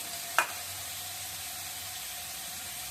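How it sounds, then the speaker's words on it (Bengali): Green chilies sizzle in a hot pan with a constant soft hiss, broken once early by a brief sharp pop or clink, then a steady quiet frying sound. "এই যে কাঁচা লঙ্কাটা একটু ভেজে নিচ্ছি।"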